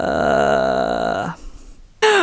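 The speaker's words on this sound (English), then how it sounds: "Vocal fry is a soft, creaky sound at the bottom of your voice." A singer demonstrates vocal fry, a soft, low creaky voice sound at the bottom of the vocal range. It is sustained for about a second, then stops, and a brief higher vocal sound follows.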